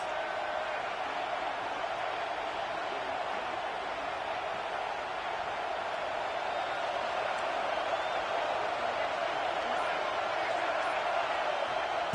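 Roaring football stadium crowd at a college game, a dense continuous wall of cheering and noise that holds steady throughout, broad and distant-sounding, with a commentator talking over it.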